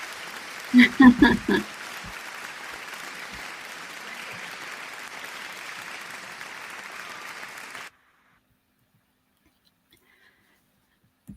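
Steady clapping runs for about eight seconds on a podcast, with a few louder bursts near the start, then cuts off abruptly into near silence.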